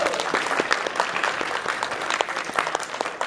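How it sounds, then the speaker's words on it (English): Lively applause from a game show audience for a second-place couple at a Newlywed Game, steady clapping throughout with a few scattered cheers. "How about a big hand for our second place couple?"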